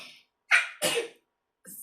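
Two sharp sneezes in quick succession, close and loud, followed by a faint breathy sound.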